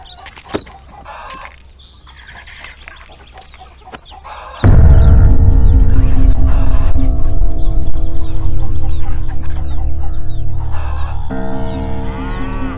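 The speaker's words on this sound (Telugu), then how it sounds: "కోడేంది కొత్తగా ఉంది? ఎక్కడిది?" A rooster on a farm clucks in short bursts. Partway through, a loud, sustained crow breaks in close to the listener, with livestock sounds and low farmyard noise underneath.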